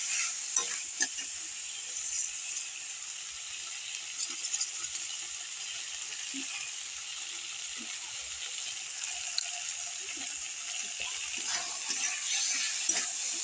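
Tomatoes frying in a kadai, a steady bright sizzle with scattered scraping and clinking as a spoon stirs them, close and moderately quiet, with no talk.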